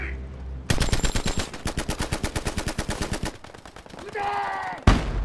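Rapid bursts of automatic machine gun fire in a Battle of Iwo Jima beach landing scene from a war film, loud and rhythmic with dense evenly spaced shots for several seconds, then a lull, a brief sustained tone and a final sharp bang.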